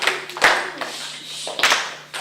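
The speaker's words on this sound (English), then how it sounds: "All right, guys, let's clap it up." School children in a classroom clap together in a few uneven bursts, loose and not quite in unison, close and fairly loud with quieter gaps between.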